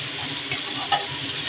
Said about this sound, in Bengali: আমি একটু পেঁয়াজগুলো ভেজে নিচ্ছি।